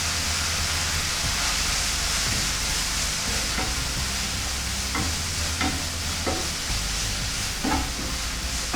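Constant sizzling of fenugreek leaves stir-frying in a hot pan with chili powder and salt, with occasional scraping stirs cutting through the steady hiss.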